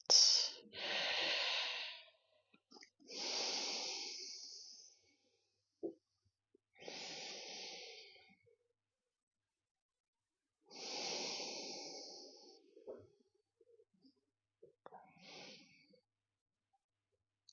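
Slow breathing in and out during a chair yoga practice for the lower back, about five long, airy breaths spaced by silences, close and clear.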